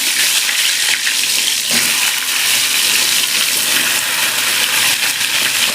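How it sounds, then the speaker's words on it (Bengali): Eggplant slices fry in hot mustard oil with a continuous loud hiss and sizzle, bright and close, with occasional small crackles and no talking. "এবার বেগুনগুলোকে ভেজে নেব। একটা একটু করে বেগুন দিয়ে দিলাম।"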